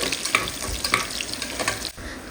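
Mixed vegetables for a hotel-style vegetable biryani are sautéed and stirred in a pan. They sizzle steadily under irregular scraping and clinking stir strokes, close by and with no talking.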